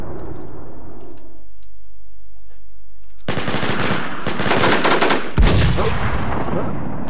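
Video game machine-gun fire in bursts: after a quiet stretch, loud rapid automatic gunfire rattles close by in two long volleys separated by a short pause, ending in a sharp heavy shot.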